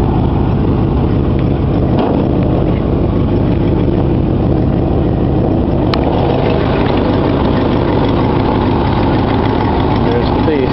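A 1965 Cadillac limousine fitted with a big black 429 V8 from an 83 Cadillac limousine idles loudly and steadily nearby, a deep constant rumble throughout.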